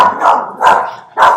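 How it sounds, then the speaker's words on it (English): A dog barks three times in loud, close bursts, each sharp and spaced about half a second apart, with no talking over it. "our dog"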